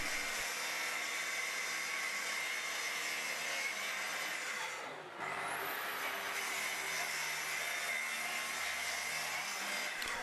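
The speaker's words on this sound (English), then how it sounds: "using a track saw on the path bench I could cut the pieces to the lengths I needed" Track saw on a bench cutting wood pieces to length, a loud steady whining cut that drops briefly mid-way before spinning back up and continuing, close and alone.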